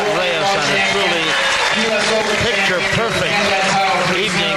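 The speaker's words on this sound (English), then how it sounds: "Great crowd on hand, and they're on their feet to a man, woman, and child to salute the new champion" Crowd at the 1995 World 8 Ball Championship in Las Vegas applauding on their feet for the new champion, steady dense clapping throughout with a commentator talking over it.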